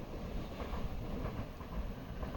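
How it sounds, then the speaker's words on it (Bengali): A low, steady rumble of a train passing at a distance beside a walking and cycling path, faint and continuous with a windy, muffled edge and no voices. "ওই যে ট্রেন যাচ্ছে ট্রেনের একটা দৃশ্য"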